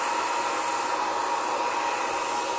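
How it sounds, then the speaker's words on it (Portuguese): A hair dryer runs at a steady, loud whoosh with a constant motor whine, close by and uninterrupted, with no voices over it. "Eu vou ligar aqui o meu secador de cabelo"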